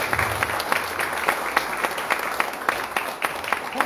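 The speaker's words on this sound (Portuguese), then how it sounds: "Dê uma salva de palmas para Jesus" A church congregation applauds together in a steady, dense wash of clapping that runs through the whole stretch at even loudness, with a few scattered voices faintly underneath.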